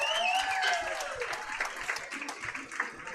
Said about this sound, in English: Give her a round of applause for that.